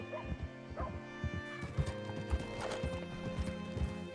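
Horse hooves clip-clop in a steady, repeated rhythm in Red Dead Redemption 2, fairly close, over a soft sustained musical background, with a brief whinny.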